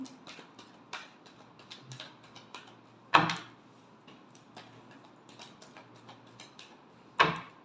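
Tarot cards being shuffled during a reading: a run of soft, quick riffling ticks and taps, quiet and close, broken by two louder slaps about four seconds apart.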